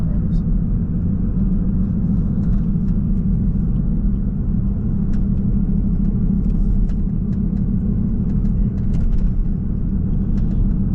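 Steady low tire hum and road rumble from a Volkswagen MK5 while driving, a continuous drone filling the whole stretch at an even level.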